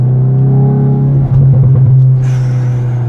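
Hyundai i20N engine revving loudly and close, a strong steady low drone with a surge of throaty roughness midway and a brief dip before settling back, no voices over it.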